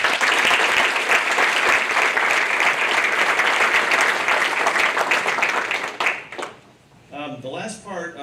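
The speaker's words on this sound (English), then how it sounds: "How about another round of applause for these guys?" Large audience applause at a senior hall of fame ceremony, loud and sustained for about six seconds before fading, followed by a person beginning to speak.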